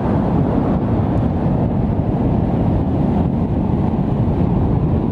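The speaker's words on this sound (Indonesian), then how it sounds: "Anginnya udah kenceng." Strong wind at a beach buffets the microphone with a loud, continuous, rumbling roar that holds steady throughout, with no clear gaps or other distinct sounds.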